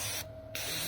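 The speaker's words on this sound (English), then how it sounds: "A bit of WD down there to help work on the grease right." Short burst of WD-40 lubricant spray aimed at a motorcycle rear brake, a Honda VFR 800, a hissing spray lasting about a third of a second, close and clear between quieter moments.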